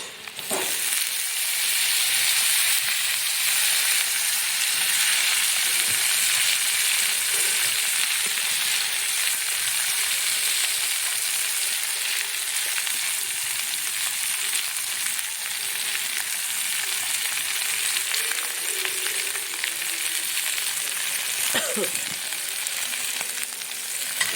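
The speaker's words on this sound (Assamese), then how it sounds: "এতিয়া মই ইয়াত আলু ব্ৰকলি কাটি থোৱাখিনি দি দিম।" Chopped potato and broccoli fry in a hot pan over low heat with a steady, close sizzle and hiss that runs unbroken throughout, with a few faint stirring scrapes.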